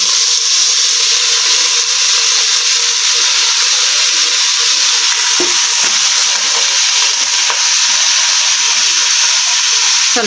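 Washed chicken pieces hit hot oil in a pressure cooker and sizzle loudly and steadily, a constant close hiss with a few faint stirring knocks.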